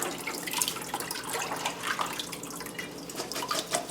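Tap water runs steadily into a sink while kale is rinsed in a colander, a continuous broadband splashing rush with no talking.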